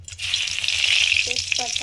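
Dried red chillies hissing in hot mustard oil, giving a steady, fairly loud sizzle close by, with a few faint clinks near the end.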